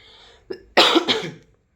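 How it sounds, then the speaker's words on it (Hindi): A brief throat sound comes first, followed by one harsh, close cough that trails off into a short rasp, then silence. "और अभी थोड़ी सी खांसी हो रही है।"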